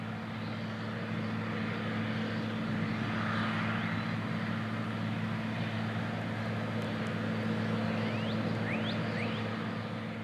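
Steady low diesel drone of a 450-horsepower John Deere 9520 tractor pulling a Great Plains vertical tillage tool across a field, heard at a moderate distance as a constant even hum with no voices.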